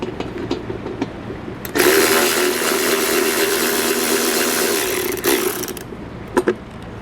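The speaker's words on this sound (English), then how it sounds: "5/16 socket on our driver's side. This bolt right here, we need to remove it." A power driver with a 5/16 socket whirs steadily for about four seconds while backing out a bolt on the driver's side of a vehicle. Brief clicks and clunks come before and after.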